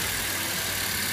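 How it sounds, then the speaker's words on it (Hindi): A 2015 Hyundai i20 engine idles steadily after its spark plug has been cleaned, giving a constant close mechanical hum with no variation. "स्पार्क प्लग क्लीन करने के बाद इंजन स्टार्ट करके देखते हैं कि फर्क पड़ा कि नहीं पड़ा।"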